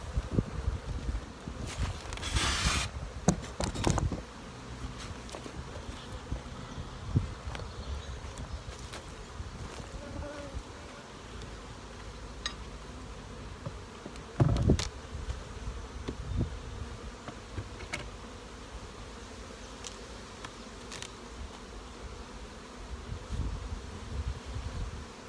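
Honey bees work a hive topped with a honey super outdoors, a soft continuous buzzing drone with brief louder passes of bees flying close, plus occasional rustles and handling noises.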